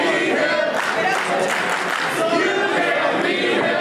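A wrestling crowd roars and chants together in an arena, a loud, sustained wall of voices with rhythmic swells running the whole way through.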